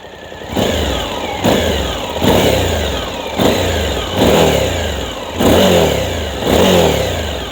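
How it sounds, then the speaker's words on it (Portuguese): A loud Suzuki V-Strom 1050DE (2023) V-twin motorcycle engine revs repeatedly, rising and falling in several throttle blips over a rough idle, close to the microphone. "Eu adoro a sonoridade destes motores em B."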